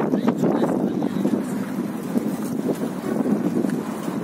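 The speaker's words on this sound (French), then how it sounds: "Il y a un petit peu de vent." Steady wind buffeting the microphone outdoors at Marseille's Gare Saint-Charles station, a continuous low rumble with gusty swells and no speech.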